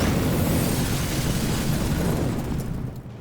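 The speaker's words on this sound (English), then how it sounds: "They think it's a hand grenade." A hand grenade blast fills the clip, a loud broad roaring boom that rumbles on without a break before easing off at the very end.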